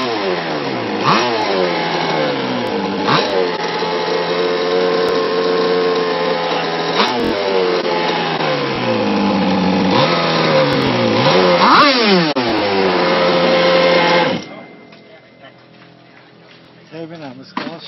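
A vehicle engine revs hard under aggressive throttle, its pitch climbing and dropping in repeated sweeps with a loud, close, buzzing tone before it suddenly cuts back to a quieter idle.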